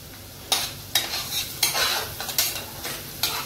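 Onion fries in a pan while a spatula strikes and scrapes in about half a dozen sharp, evenly spaced strokes over a low background sizzle, heard close up.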